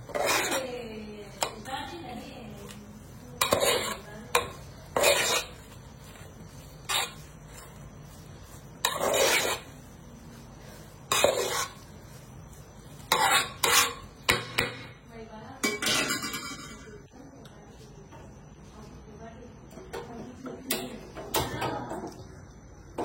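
Egg semiya is stirred in a pan, a metal spoon scraping and clanking against it in scattered loud bursts, while a voice talks between and over the strokes.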